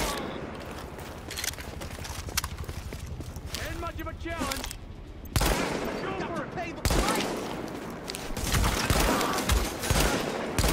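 Gunfire from Tom Clancy's The Division cracks in sharp bursts and rattling volleys, loud and close, with game ambience and a voice briefly heard between shots.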